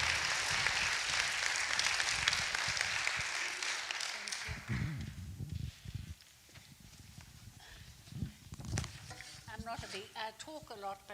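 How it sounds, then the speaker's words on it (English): An audience applauds for a couple introduced to speak, a dense wash of clapping that fades out midway as footsteps and shuffling take over before a voice begins. "let's give Marlene and Egon a big round of applause"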